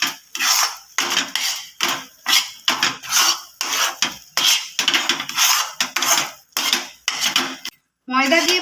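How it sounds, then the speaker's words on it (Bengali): Chana dal filling mixed with flour being stirred in a kadai, with loud, close scraping strokes repeating rhythmically about a dozen times and brief pauses between them. "ময়দা দিয়ে ভালো করে নাড়ার পরে আমি আরো 2-3 মিনিট ভালো করে কড়াইতে কষালাম।"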